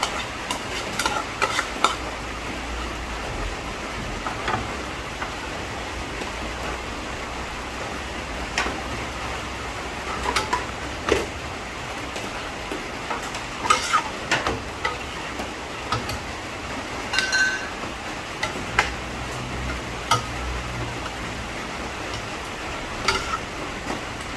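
Coconut milk simmers with chicken and papaya in a pan, giving a steady low bubbling and sizzle with scattered clicks of a utensil against the pot, close and continuous, with no talking.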